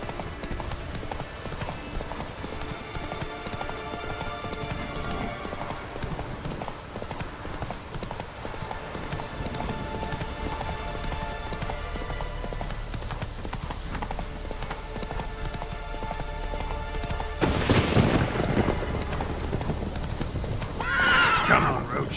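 Roach the horse from The Witcher video game trots with steady clip-clopping hooves under a game soundtrack, then lets out a loud neigh near the end, followed by a shorter whinny.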